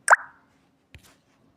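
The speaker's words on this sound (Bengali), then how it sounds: "এরপরে এটাকে আমি ঢেলে নেব।" Hot almond brittle (badam chikki) mixture poured into an oiled tray: a thick soft plop as the mass lands, then a second smaller plop, in an otherwise quiet kitchen.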